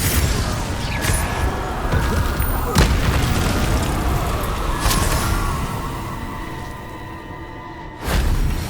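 Confringo spell blasts in the video game Hogwarts Legacy: several booming explosive hits over a dense rumbling game soundscape, each a sharp loud burst, the last one near the end.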